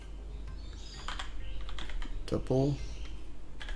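A computer keyboard clatters in quick bursts of keystrokes while coding in Python, the clicks close and light under someone speaking French.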